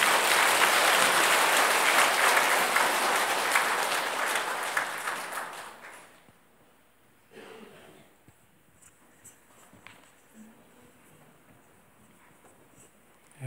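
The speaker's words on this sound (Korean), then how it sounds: "다시 한번 박수 쳐주십시오" Applause from a church congregation is loud and dense for about six seconds, then fades to a quiet room with scattered faint rustles and small knocks.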